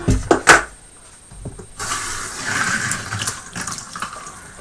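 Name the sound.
water rinsing out an Eheim 2213 filter canister tub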